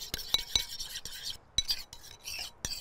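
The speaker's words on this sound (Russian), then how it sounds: "Смотрите, перемешиваю." Sauce stirred in a bowl while cooking fish burgers: a utensil scrapes softly and clinks against the bowl in a few sharp taps amid quiet swishing, close and faint.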